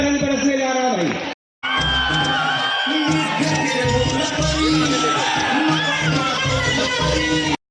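Applause and cheering from the audience at the Saptrang annual festival of the Chaudhary Harchand Singh Group of Colleges in Khurja. The crowd noise is loud and dense, with whoops over sustained tones, and it breaks off briefly once before carrying on.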